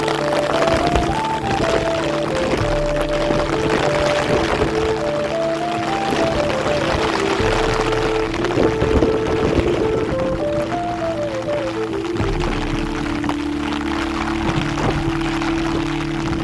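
Monsoon rain falling on the Haldi River makes a steady hiss and patter that carries on throughout without a break, while a musical melody plays over it.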